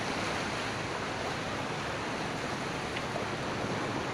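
Sea waves at Pattaya beach after rain, a continuous wash of surf with wind across the microphone, steady and fairly faint with no voices.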